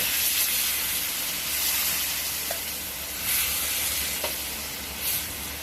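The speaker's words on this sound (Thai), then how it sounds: "หลังจาก ผัดปลากับพริกแกงจนใกล้ที่เลยนะครับ เดี๋ยวเอาน้ำใส่ลงไป" Water goes into a pan of stir-fried river catfish and curry paste, giving a steady close sizzle and hiss with a few soft stirring clicks, and no voices.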